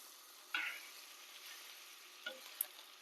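Meat pieces fry in hot oil until crisp, a soft steady sizzle with a few brief louder crackles and spatters, close and without voices.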